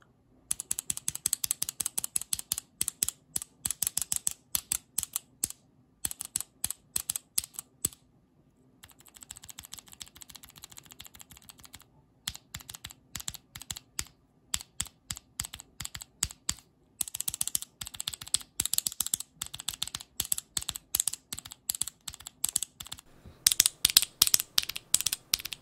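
Mechanical keyboard with Everglide Jade Green v2 switches fitted with old WASD keycaps, typed on in quick clicky bursts with short pauses, close and crisp.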